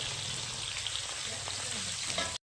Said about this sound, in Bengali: এবার বিনসটা দিয়ে দিলাম, গাজরটাও দিয়ে দিলাম